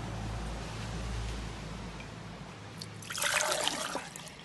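Water running off a rain simulator near capacity, a soft, low trickle and splash that swells into a brighter, louder gush near the end, faint and with no talking.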